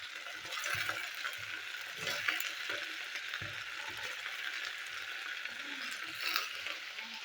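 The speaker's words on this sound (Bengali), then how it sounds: "বরবটিগুলো আমি ভেজে নিচ্ছি।" Yardlong beans keep frying in oil with a steady moderate sizzle, broken by scraping and clattering from stirring with a utensil in the pan, close by and without speech.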